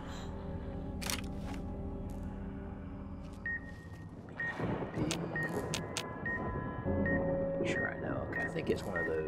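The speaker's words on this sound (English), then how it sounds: "there's a beeper in here" Repeated short electronic beeps from a beeper in the video game Fallout New Vegas, heard over game ambience and clunky footsteps, with a voice talking across the clip.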